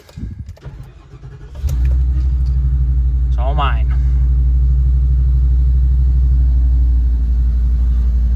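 A Ford 7.3 engine in a chassis-cab RV cranks and catches, then settles into a loud, deep, steady idle rumble close by while someone speaks briefly.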